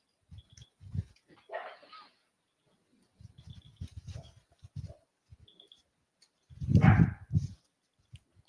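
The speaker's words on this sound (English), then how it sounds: "She's just running around barking at stuff." A dog barks in scattered bursts, some quick and soft, with one louder, fuller bark near the end and quiet pauses between.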